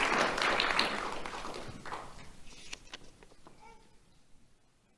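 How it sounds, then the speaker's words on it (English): Audience at a Do The Right Thing awards ceremony breaking into applause that peaks quickly, then thins to a few scattered claps and fades out. "Let's have a round of applause for Camden Davis."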